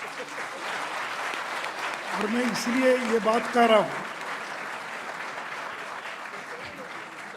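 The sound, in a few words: audience applause during speech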